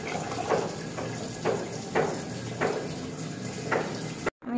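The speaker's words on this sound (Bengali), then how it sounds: "আমি পর্যাপ্ত পানি দিয়ে দিব।" Water is poured into almost-boiled, mashed lentils for a jute-leaf dal with bombay chilli, heard as a watery pour with several recurring splashes close by and no talking.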